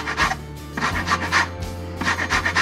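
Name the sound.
rasp grater zesting lemon rind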